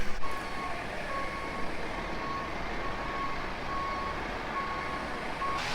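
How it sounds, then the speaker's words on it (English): A truck loaded with onions reverses at night, its backup alarm beeping steadily in a regular pulse over a constant engine rumble throughout, with no talk. "Last truck for the night."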